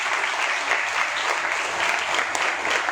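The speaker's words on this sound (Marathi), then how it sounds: "त्यामुळे त्या मुलींसाठी जोरदार टाळ्या वाजवा" An audience applauds the top-scoring girls at an exam results event, with steady, dense clapping from many hands that holds even throughout.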